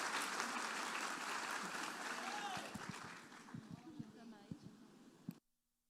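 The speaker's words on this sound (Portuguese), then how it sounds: "Uma salva de palmas." A church congregation applauds in a dense burst that gradually thins into scattered claps and soft thumps before ending abruptly, with voices heard under the clapping.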